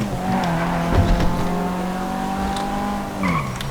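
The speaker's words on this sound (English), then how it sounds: "Then there's the Hakumai, and it drives the same as in GTA 4." A Hakumai in GTA V with the IVPack mod, a front-wheel-drive car with a weak engine, drives with a steady engine drone, briefly squealing its tires, then the pitch drops as it slows.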